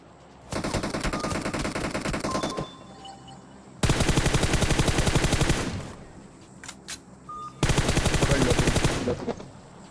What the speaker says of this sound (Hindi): मैं यहीं पे बैठा हूँ, यहीं से प्री फायर दे रहा हूँ